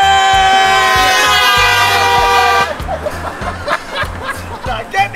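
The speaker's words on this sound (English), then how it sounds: "Give us a beep." Vehicle horn blasts at a birthday party, a long sustained honk followed by short repeated toots, loud and close, with excited voices and laughter mixed in after the horn stops.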